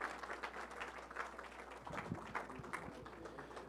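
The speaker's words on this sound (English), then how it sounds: "Big round of applause for Robert." Audience applause after a guest speaker named Robert finishes at a public policy event on women's right to vote, a steady, moderately distant wash of clapping lasting throughout with no talk over it.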